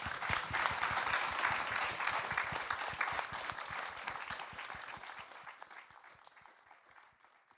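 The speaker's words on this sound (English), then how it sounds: "another round of applause for them" Audience applause for a panel at a COP26 climate justice event, a dense wash of many hands clapping that stays strong for several seconds, then gradually thins and fades as the clapping dies away.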